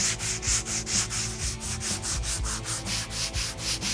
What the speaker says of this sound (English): take our sanding block, our sandpaper, and just sand that down and try to do away with this dip.